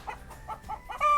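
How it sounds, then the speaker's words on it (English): Roosters and chickens in a backyard homestead in Puerto Rico give four or five short, nasal clucks in an uneven rhythm, ending on a slightly longer, louder call. The birds are fairly close, with no talking. "apparently the roosters and the chickens are agreeing with me"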